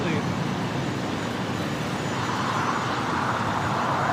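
A fixed-wing airliner takes off at LAX, its jet engines producing a loud, sustained broadband roar that holds steady throughout.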